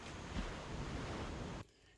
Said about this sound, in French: Sa plage est paisible et le bruit des vagues.